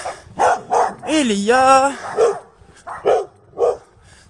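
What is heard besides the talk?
dogs barking in the street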